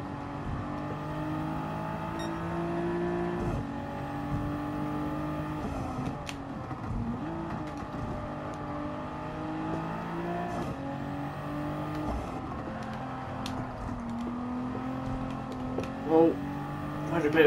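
Race car engine droning loud and steady at full throttle in Gran Turismo 7, with sustained revving tones that shift pitch through gear changes, under a voice speaking.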